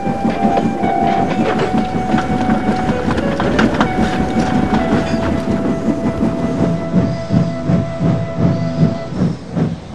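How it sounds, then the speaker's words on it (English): A train rolls steadily along the rails with rhythmic clickety-clack and a hissing undertone, loud and continuous throughout. "Help later arrived as Duck came to pull Henry back to the station."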